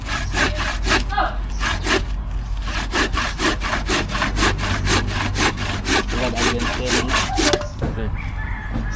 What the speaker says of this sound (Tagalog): Ayan po, ang lagari.